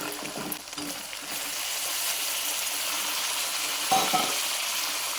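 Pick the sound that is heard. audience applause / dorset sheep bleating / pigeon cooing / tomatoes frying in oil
tomatoes frying in oil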